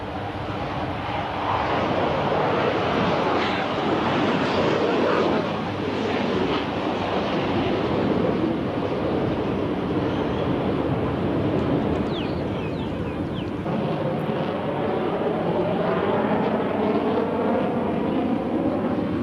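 Several military aircraft at a Thai Air Force anniversary airshow pass overhead in a loud, continuous jet roar that swells and holds steady throughout.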